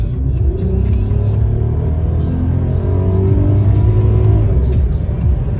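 A car with a 3.2 engine and DSG gearbox idles and revs at close range in the evening, a deep steady engine rumble with a few rising revs and no talking.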